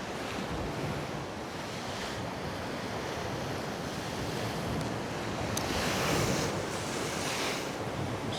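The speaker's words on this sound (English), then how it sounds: "Those waves aren't looking good." Sea waves roll into a small bay at Costa de la Calma, Mallorca, as a steady, wind-blown surf wash with slightly louder surges, close and continuous without talk.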